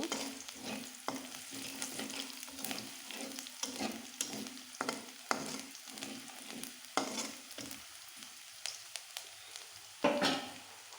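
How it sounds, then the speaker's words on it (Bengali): Chopped garlic and onion fry in oil in a wok while a spatula stirs in repeated scraping strokes, a steady close sizzle running underneath, with no voices. "কড়াইতে তেল দিয়েছি রসুন কুচি পেঁয়াজ কুচি দিয়েছি কিছুক্ষণ নাড়ব"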